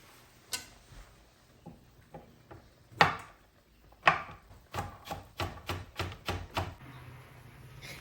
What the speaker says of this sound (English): I'm standing here chopping.